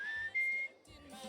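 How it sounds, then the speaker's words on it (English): A person whistles a few sustained, wavering notes while walking outdoors, moderately close, with faint ambient background and no talk. "Let's walk and whistle."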